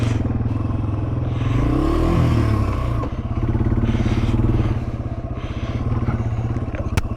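A Yamaha TW200 motorcycle loaded with camping gear on its rack rides down a dirt trail, its engine thrumming steadily up close, with clattering and scraping over the rough ground.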